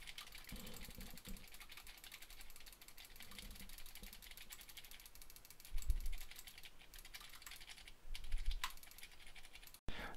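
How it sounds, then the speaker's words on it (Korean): Quiet tapping on a computer keyboard and mouse in a recording test of a HyperX Cloud Stinger S headset, a steady run of soft clicks with a couple of heavier thumps near the end. "주변 잡음을 어느 정도 제어할 수 있는지 마우스와 키보드를 두드려 보도록 하겠습니다"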